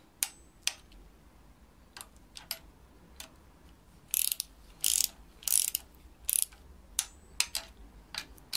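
A ratchet tightens nuts on a BMW double VANOS unit, M52TU/M54 engine, with sharp separate clicks spaced about a second apart and a few longer, louder ratcheting bursts in the middle, close and with no talk.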